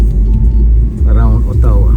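Steady low rumble inside a car driving through Ottawa neighborhood streets, continuous for the whole two seconds, with a muffled voice rising briefly over the road noise.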